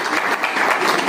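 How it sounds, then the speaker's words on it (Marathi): An audience at a credit society's annual general meeting claps in a brief, dense burst of steady applause, fairly loud and close. "सर्वांनी टाळ्या गजरा।"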